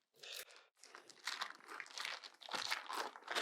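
Plastic bag wrapping picanha beef crinkles and crunches close up as it is cut and pulled open, a series of quiet, irregular rustling bursts.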